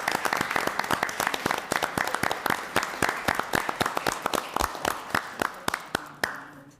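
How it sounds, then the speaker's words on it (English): Applause at a town council meeting: a small group claps in a steady, distinct rhythm of sharp individual claps, fairly close, with a few louder hands standing out before it tapers off. "So let me tell you why you're getting applause."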